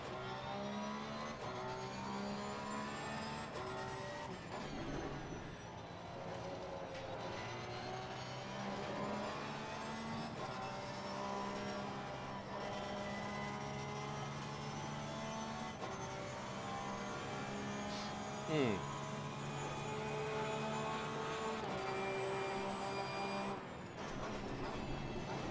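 Porsche 991 II GT3 R race car driven hard around a lap in Assetto Corsa Competizione, a continuous loud engine drone with rising and falling gear harmonics through shifts and braking, steady and close throughout.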